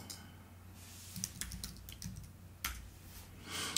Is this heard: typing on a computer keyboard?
yes